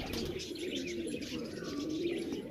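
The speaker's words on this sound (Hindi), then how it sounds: "फाइटर कबूतर है माशाल्लाह" Low, steady cooing of fighter pigeons close by, with faint chirps and a constant background hum.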